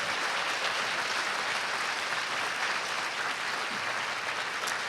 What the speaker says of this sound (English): Let's give him a round of applause for helping us think.